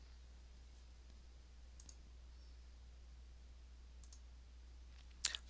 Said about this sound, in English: and I'm going to click publish